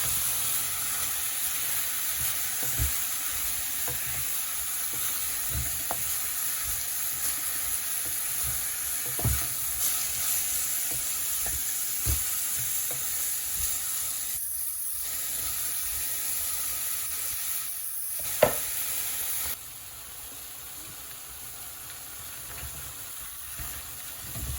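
Potatoes fry with bitter gourd in a pan, giving a continuous, close hiss and sizzle broken by occasional scraping clinks of a utensil stirring. The sizzle drops slightly in level toward the end.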